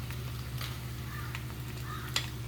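Spoon stirring a potato mixture in a pan, soft scraping strokes with a few light clinks against the pan, quiet and close over a faint steady hum.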